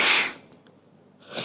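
A sudden sneeze caught near the start, loud and breathy, then a quiet pause and a second sharp burst of breath or a smaller sneeze at the end, with no talk.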